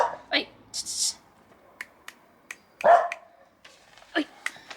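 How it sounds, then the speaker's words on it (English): A dog barks in several sharp, separate bursts spaced irregularly over a few seconds, close and fairly loud, with a few quick clicks between them. "You do not have to bark back."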